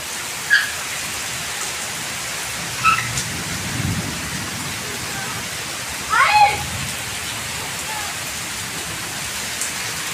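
Steady rain hisses continuously throughout, with a few faint louder splashes and distant sounds rising briefly above the downpour.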